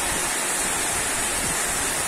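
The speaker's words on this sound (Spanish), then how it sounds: "observando esta caída de agua" Heavy rainstorm in Mexicali, with water pouring down onto a flooding street, a dense, steady roar of falling water that stays loud and continuous throughout, no voices.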